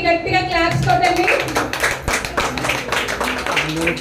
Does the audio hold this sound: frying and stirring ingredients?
no